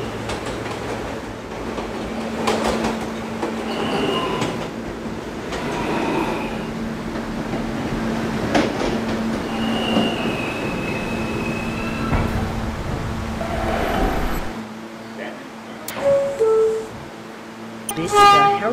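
A New York R160B subway B train rumbles steadily along the tracks with rattling and squealing, a sustained mechanical roar that drops away near the end, followed by a few clanks.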